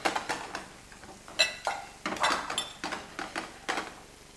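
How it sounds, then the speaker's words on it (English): Metal pan shaken on the stove while egg cooks for pad Thai, a series of close clanks and scraping clinks in an uneven rhythm, with no voice. "just let it shake the pan so that it evenly makes a nice layer"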